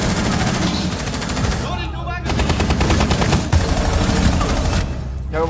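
Rapid bursts of video game gunfire, loud and dense, crackle almost continuously in close, repeated volleys with brief pauses, mixed with indistinct voices.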